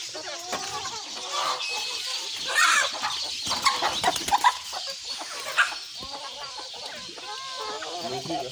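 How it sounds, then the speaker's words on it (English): Chickens cluck and squawk around an African village farmyard, with a hen that has been incubating eggs among them; the calls come steadily and close, with a few louder bursts and rustling in between. "that's the chicken that you have seen running out"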